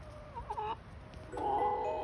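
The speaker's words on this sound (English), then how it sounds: "here's a chicken" A chicken clucks nearby in a few short rising notes, followed by a longer, louder call, over a quiet farmyard background without speech.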